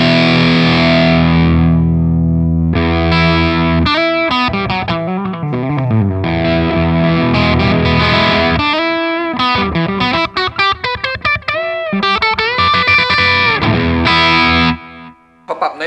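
An electric guitar played through a Pedaltank Redburst distortion pedal: sustained crunchy chords alternating with quick riffs and bends, loud and gritty, with no talking.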